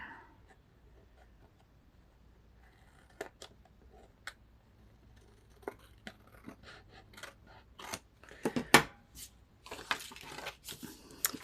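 Scissors trim paper or craft material in a series of close, crisp snips, sparse at first and then quicker and louder toward the end, with no talk.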